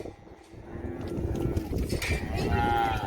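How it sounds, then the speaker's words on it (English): Cattle mooing while cows and calves are sorted during a drought-year herd sale, several loud lowing calls building over the noisy pen, with a person's voice briefly mixed in. "Alright, so we're kind of sorting these cows and calves off."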